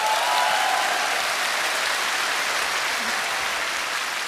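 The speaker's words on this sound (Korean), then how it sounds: "세 분 다시 한번 박수 한번 해주세요." A concert audience claps in a full, even wave of applause that holds steady from start to finish, with no talking over it.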